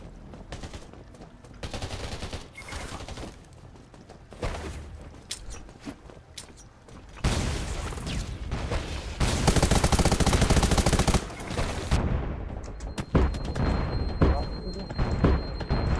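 Gunfire from the online survival shooter Undawn, dense bursts of rapid shots and booms rising and falling through a loud firefight, with voices talking over the action.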